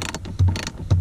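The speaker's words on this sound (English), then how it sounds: "there's enough room, at least on one side, to be able to use the ratchet to get this one off" A ratchet fitted with a 10mm socket loosens a bolt on a Toyota Tacoma, giving a few close, quick clicking pawl ratchets with two heavier clunks.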